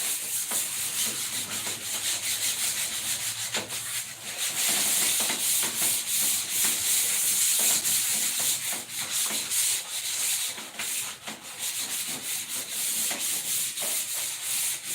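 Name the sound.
sanding down drywall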